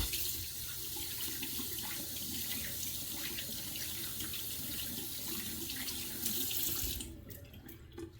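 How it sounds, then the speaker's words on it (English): Hands being rinsed under a running sink tap with plain water, a steady close-up gush that splashes and shifts as hands move through the stream, ending with a few drips as the flow stops. "Rinsing it off my hands. I mean, it doesn't rinse off like, I'm not using soap, it's just water."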